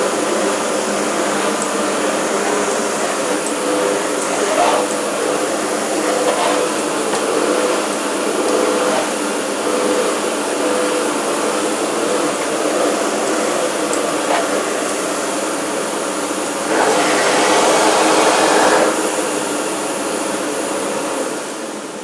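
A Bosch Perfecta 85 cylinder vacuum cleaner, new in box, runs on its reduced-suction Eco-Matic setting, giving a steady broadband whoosh for the whole stretch that swells briefly louder near the end, with no talking.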